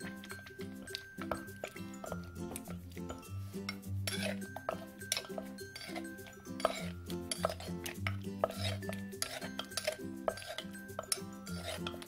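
Thai papaya salad being mixed with utensils in a mortar or bowl, giving steady clinks, wet squishing and stirring sounds close up, with a faint tonal hum in the background.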